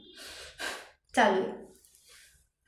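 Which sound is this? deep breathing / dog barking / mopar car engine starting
deep breathing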